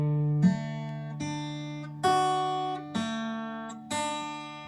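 A Breedlove acoustic guitar in Nashville tuning, where the lower strings are the higher octave strings of a 12-string set, rings out as bright, close strummed chords: five ringing strums, each left to sustain and fade, with no talking.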